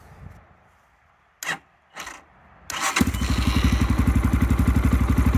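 A 2022 X-Pro Templar dual-purpose motorcycle with a Nibbi carburetor, cold, gives a couple of short cranking bursts, then catches and settles into a loud, close, steady thumping idle, with no talk.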